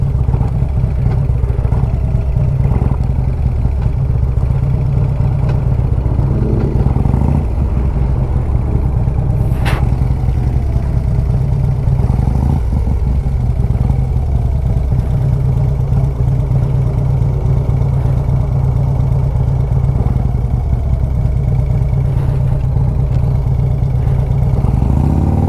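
A motorcycle engine drones steadily while the bike is ridden, with a low rumble throughout, a light mechanical clatter and one sharp click partway through.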